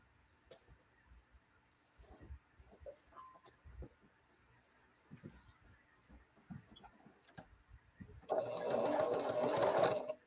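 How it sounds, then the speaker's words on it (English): A sewing machine stitching quilt squares runs in a loud, steady whirring burst near the end, after a stretch of quiet handling sounds and soft bumps. "So I'm just going to sew these like a 9 patch."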